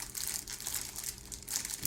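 Plastic wrap crinkles as it is pushed by hand into a flower basket, a continuous close rustling and crackling without pause.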